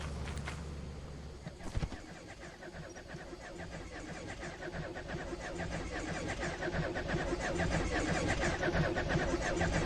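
Truck engine in the video game Lethal Company, a steady mid-pitched motor drone that builds gradually louder over the whole stretch, with voices talking over it.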